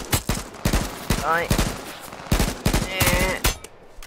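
Rapid bursts of gunfire in the video game H1Z1 crack out in several volleys, loud and close, while a voice speaks briefly between shots.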